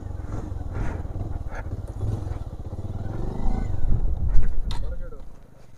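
A cold Bajaj Avenger motorcycle with a seized engine runs after being push-started in gear, its engine chugging low and unevenly nearby. It rises briefly, then fades, with voices talking over it.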